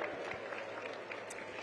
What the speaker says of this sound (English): A big round of applause for all the